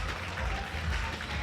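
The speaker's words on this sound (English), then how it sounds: "Big round of applause from the crowd" A crowd applauds at a compound women's archery gold medal final in Mexico City: a soft, distant wash of clapping that carries on steadily, with faint voices mixed in.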